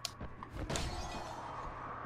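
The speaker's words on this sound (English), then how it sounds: "I like the way this glass breaks" Glass shattering in the zombie game Dying Light, a sharp crash followed by a short scatter of tinkling shards, fairly faint and heard alone.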